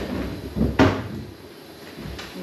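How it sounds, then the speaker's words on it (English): An interior door in a home, mid-cleaning during hurricane preparations, swings shut with a single solid thump between softer handling noises, fairly close and alone. "Close the door."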